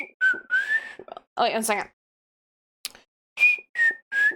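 A person whistles close up in short tuneful phrases, a run of bright notes, then a pause and three more brief notes, with a quick spoken aside in between.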